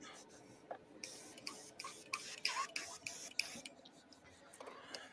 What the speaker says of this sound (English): 3M high power spray gun cleaner, which is basically aerosol acetone